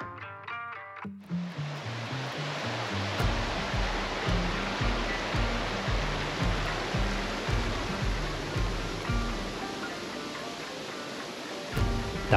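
Waterfall in the Pyrenees near Vernet-les-Bains, a steady loud rushing of falling water filling the scene, with rhythmic low thumps running underneath.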